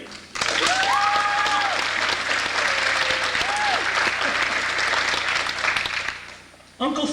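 Loud, continuous applause and cheering from a Halloween party audience starts abruptly, with whistles rising over the clapping before it tapers off and briefly swells again at the end.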